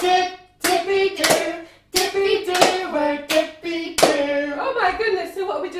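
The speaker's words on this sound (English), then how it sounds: "Hands first and then clap." Rhythmic hand claps and hand pats mark the beat of a children's song, with short sung or spoken phrases between them and pauses where the pattern restarts.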